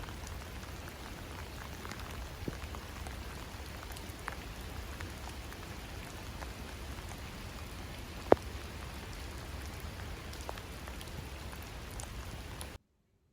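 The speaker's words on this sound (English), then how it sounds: "Just more and colder rain." Cold winter rain in Bergen, Norway, a constant fine hiss of drops on surfaces with occasional louder individual taps, even and fairly quiet, with no voices, ending abruptly.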